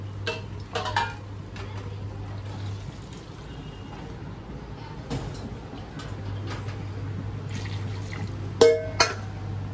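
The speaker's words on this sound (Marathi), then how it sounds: "आता गरम पाणी टाकून घ्यायचंय" Boiled hot water is poured into a pot of village chicken curry, making a soft liquid pour over a low kitchen hum, with a few sharp metallic clinks of pot and utensil.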